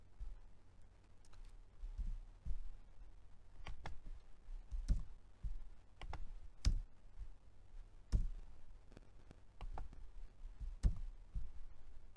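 Computer mouse clicks and keyboard presses, including the Enter key, at a desk, a sparse run of quiet sharp clicks and taps scattered over faint room noise.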